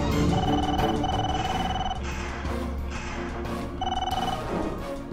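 A telephone ringing in repeated bursts, loud and close, over a dense musical background.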